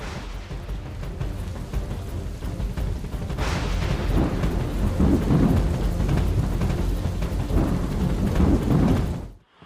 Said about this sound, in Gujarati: અમદાવાદમાં છેલ્લા 2 કલાકથી જે અનરાધાર વરસાદ છે તે વરસી રહ્યો છે